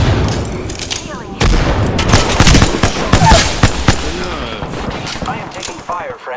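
Rapid gunfire and explosive bursts fill a PC shooter firefight, loud overlapping volleys and booms close in, with a voice talking over the shooting.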